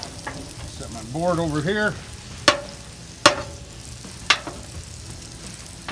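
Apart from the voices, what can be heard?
sausage and bacon frying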